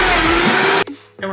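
A blender whirs loudly as it purees a bok choy smoothie, a steady high motor drone that cuts out abruptly and then briefly restarts.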